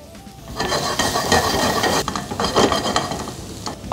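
Garlic frying in hot oil in a pan, a dense close sizzle that swells after the first half second and holds, crackling and spitting, with occasional light utensil scrapes.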